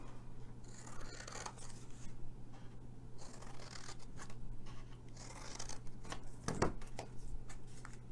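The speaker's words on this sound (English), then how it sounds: "I'm going to trim just these just a hair or two" Scissors trimming a thin sliver off cardstock during card-making, with soft continuous snipping and paper rubbing close up, one sharper cut near the end.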